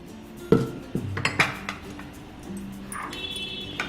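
Pomegranate seeds tipped into a mixer jar, with a few sharp clinks and clatters of a spoon and jar at close range, then quieter shuffling.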